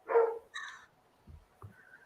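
Dogs bark upstairs in a house, one short bark and then a fainter second one, followed by a few soft thumps in an otherwise quiet room.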